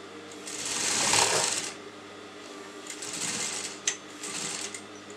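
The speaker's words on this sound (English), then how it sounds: "Put the needle in, turn it as it is, and I'm going to sew that." A sewing machine stitches around a kurta neckline in short whirring runs, a louder sustained burst first and then lighter stop-start stitching with small mechanical clicks, close by and with no voices.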